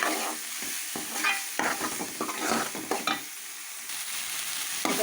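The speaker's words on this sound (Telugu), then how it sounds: "మసాలా అంతా మంచి ఫ్రై అవుతుందన్నమాట" Masala for a chicken curry frying in a pan as it is stirred, with a bright sizzling hiss broken by frequent irregular scrapes and clatters of the spoon, close and fairly loud, no talking.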